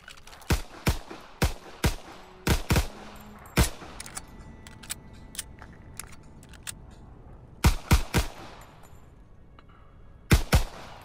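Gunfire on a shooting range in the World War II game Call of Duty: sharp single shots and quick pairs ring out at irregular intervals, loud and close, with quiet gaps between bursts and no talking.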